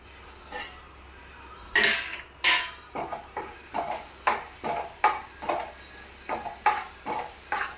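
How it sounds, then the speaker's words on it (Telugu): A spoon stirs poppy seed curry in a pan, giving a rhythmic series of scraping strokes and light metallic clinks over a soft background sizzle, close and moderately loud. "బాగా కలుపుకోవాలి"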